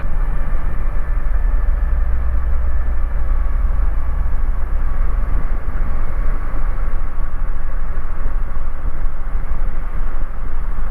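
Magni M24 Plus gyroplane in flight and climbing, a steady loud engine and rotor drone heard from inside the cockpit, constant and droning with wind rush over the microphone.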